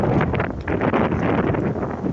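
Steady wind roars and buffets against the microphone, a broad rushing noise that holds constant with slight gusty swells throughout.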